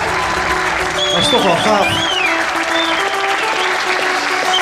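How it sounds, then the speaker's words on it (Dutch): Applause fills the room at a village talent show in Castricum, a steady crowd clapping throughout while a person speaks briefly over it. "Laat ook een applaus"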